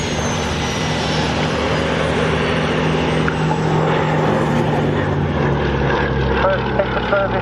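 An Avro Anson piston-engine transport drones past at an air show, a steady loud propeller roar that slowly fades, with a commentator talking over it throughout.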